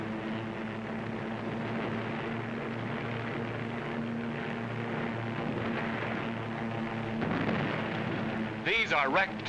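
Loud, steady droning of German WWII military aircraft engines, including a Messerschmitt, with a low rumbling hum throughout, and a burst of sharper noise near the end.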